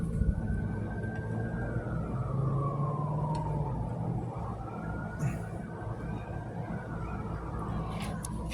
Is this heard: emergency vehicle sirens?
yes